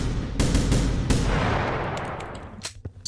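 Gunfire in The Final Station video game: a rapid string of sharp, loud shots in quick succession, then sparser bursts trailing off toward the end, with no voices.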